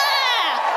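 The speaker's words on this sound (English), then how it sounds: "Give me a cheer for immigration!" A live comedy podcast audience cheers and whoops in a brief, loud burst of massed voices.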